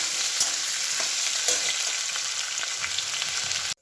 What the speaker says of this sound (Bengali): চিংড়ি মাছগুলো ভেজে একবারে সবগুলোই দিয়ে দিলাম।